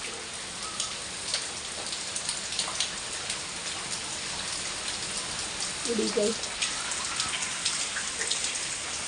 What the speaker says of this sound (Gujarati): વાવાઝોડા સાથે બરાબર વરસાદ છે।